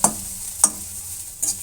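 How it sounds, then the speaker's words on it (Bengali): Neem leaves frying slowly in ghee over a low flame, with soft stirring scrapes at three separate moments over a faint, steady sizzle. "আমি স্লো আঁচে আস্তে আস্তে নিম পাতাটা ভেজে নেব।"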